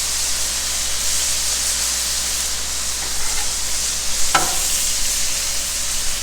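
Jalapenos and onions frying on a Blackstone griddle, with a loud continuous sizzle and hiss up close, plus a brief metallic scrape of a spatula partway through and no talking.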